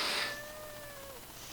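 A cat gives a single drawn-out meow, rising and then sliding down in pitch, heard clearly and alone against quiet background hiss.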